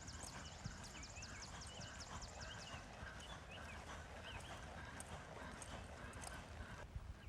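A horse canters with a steady, muffled rhythm of hoofbeats. Chirping birds are heard over it, and the whole scene sounds distant and faint.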